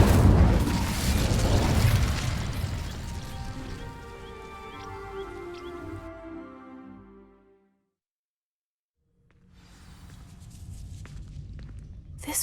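In Hogwarts Legacy, the Incendio fire spell ignites dry vines with a loud roaring whoosh of flame that crackles and slowly dies away into silence before faint game ambience returns.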